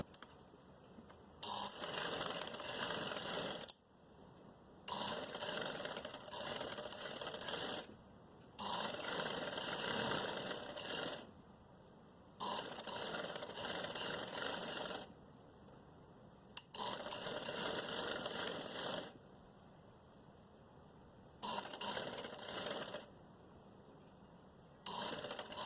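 A sewing machine stitches a hem on a shirt in repeated bursts of several seconds each, its steady mechanical whir stopping and starting in a regular rhythm, close and fairly loud with no talking.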